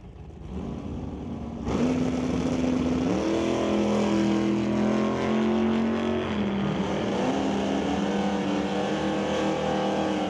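A 1972 Chevelle and a 1966 Chevy II launching side by side in a drag race, engines roaring up loudly and holding a strong droning pitch through gear shifts, heard from a distance.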